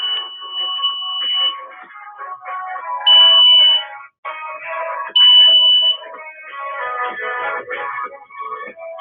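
A VoIP desk phone rings with an emergency alert tone after a panic button activation at a security desk, the tonal beeping rising and pausing in bursts, close and fairly loud with no talk.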